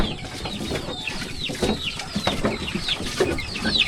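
Small chickens cluck and chirp repeatedly at close range, short high calls coming in a steady busy stream over low farmyard background noise.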